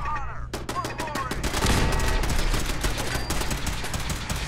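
Turret gunfire in the Fallout 4 video game, a few scattered shots at first, then a loud, sustained stream of rapid automatic fire close by.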